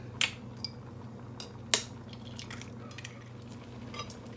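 Eggs being stirred into a Lao yellow crab curry in a pot, giving a low steady simmer hum with a few sharp utensil clinks against the pan and soft wet stirring.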